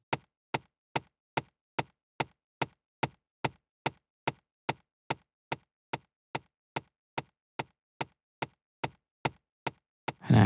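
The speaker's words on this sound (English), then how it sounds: "I'm not loving this knocking sound." Homemade snare-like drum sample with a dry knocking hit, repeated about twenty-four times in a steady even rhythm, each strike short, sharp and close, with silence between and a brief burst of noise at the very end.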